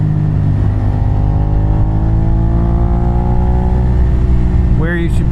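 A Suzuki SV650 motorcycle rides along with a loud, steady engine drone whose pitch climbs gradually as it revs, heard up close with wind rumble throughout.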